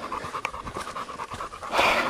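A heavy dog pants rapidly and rhythmically during a brisk outdoor walk, close and fairly loud, with a louder rustle near the end.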